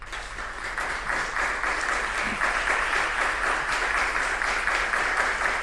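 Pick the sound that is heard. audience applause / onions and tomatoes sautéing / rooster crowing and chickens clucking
audience applause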